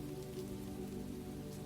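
Rain falls outside a window as a soft, steady, continuous patter that stays quiet and even throughout, with no voices.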